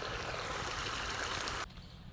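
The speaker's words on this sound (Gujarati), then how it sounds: "અહીંથી પાણી આવે છે" Irrigation water rushes steadily through a farm channel in a close, even hiss that cuts off abruptly near the end, leaving quiet background.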